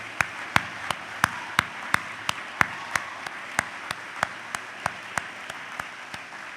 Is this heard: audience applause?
yes